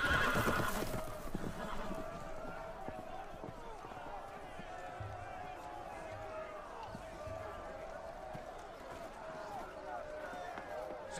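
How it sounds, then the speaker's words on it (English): Loose horses in a Game of Thrones scene whinny loudly at the start, then gallop off in a rumble of clip-clopping hooves amid commotion, with voices mixed in. "The horses! They're loose!"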